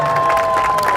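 An audience at a street juggling show in Virginia Beach cheering and applauding, a brief dense burst of claps and shouts.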